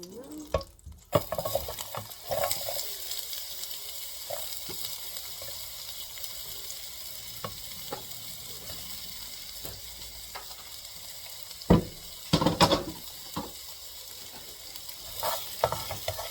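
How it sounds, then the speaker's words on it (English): Onion frying in a pan for a pork and mushroom casserole, a steady sizzle with bursts of stirring and scraping, plus a short run of tap water, close up with no talking. "So we've got the onion going"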